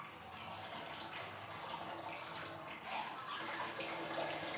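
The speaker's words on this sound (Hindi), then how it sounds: "चलिए पानी डालें" Water pours steadily into a container fitted with pipes at different heights, making a continuous rushing and splashing flow at a fairly even level.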